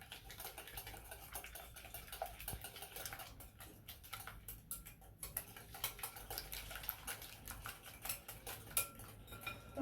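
Chocolate cake batter is stirred in a bowl, giving a rapid, irregular clatter of utensil taps and scrapes against the bowl. The sound is close and fairly quiet, with no voices.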